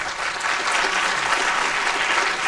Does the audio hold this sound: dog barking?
no